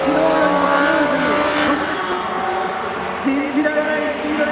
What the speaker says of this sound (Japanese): ものすごい勢いで今スロットルを開けて駆け抜けていきました